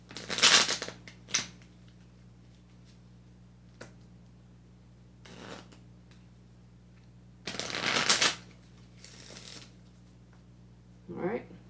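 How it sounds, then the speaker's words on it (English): A deck of playing cards being reshuffled at a table in several separate bursts of riffling and bridging, close and crisp, with quiet gaps between them and a brief voice at the end. "Okay, so we're going to reshuffle."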